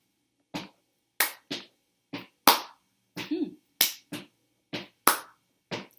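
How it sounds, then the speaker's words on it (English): Stomps and claps trade off in a steady rhythmic beat, about a dozen sharp, close hits spaced unevenly with silence between them, played alone. "I'm going to stomp, clap, stomp, stomp, clap."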